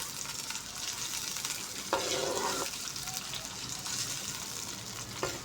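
Onions frying in ghee over a medium flame give a continuous close sizzle, with brief louder bursts of stirring and scraping in the pan.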